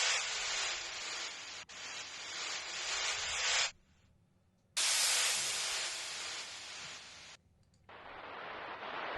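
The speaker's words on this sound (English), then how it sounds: "Fireworks backwards." Reversed fireworks sound effect from the multitrack stems of a song: loud hissing swells build and cut off abruptly, repeating three times with brief silent gaps between them.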